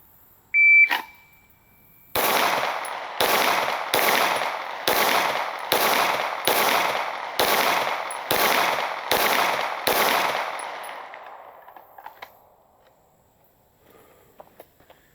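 A shot-timer beep starts a ten-round handgun shooting drill, followed by ten loud, evenly paced shots about a second apart, each ringing out before the next, then quiet.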